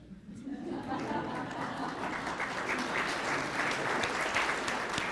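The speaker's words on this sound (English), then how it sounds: "Don't applaud yet." Sustained applause from a large audience, steady clapping that fills the room from start to finish with no voices standing out.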